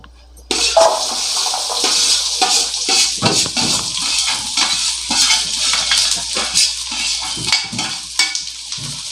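Chicken sukka ingredients fry in a pan, Mangalore style, with a steady bright sizzle and crackle and intermittent stirring and scraping clatter, fairly close and loud, with no talking.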